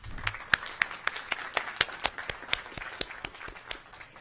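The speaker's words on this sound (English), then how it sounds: "Please give her a round of applause." Audience applause at a school recognition meeting, a moderate room of hands clapping with sharp, irregular claps standing out, steady for a few seconds and slowly thinning toward the end.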